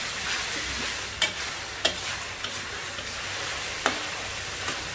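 Steady close sizzling of sweet marinated pork frying in oil in a pan, with a few sharp taps of a utensil against it.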